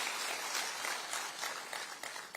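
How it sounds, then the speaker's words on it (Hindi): A crowd at a World Sickle Cell Day government event in Jabalpur applauds to welcome a minister, producing a dense, steady patter of clapping heard from a slight distance. "एक बार आप भी ताली बजा के हृदय से स्वागत कीजिए।"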